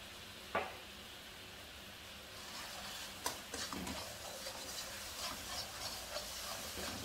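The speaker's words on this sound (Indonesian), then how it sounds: "ini kita aduk sampai gulanya tuh benar-benar cair dan jadi lengket ya teman-teman ya" A spoon scrapes and knocks against a pan of melting sugar while it sizzles and hisses softly underneath, with occasional clinks, quiet and close.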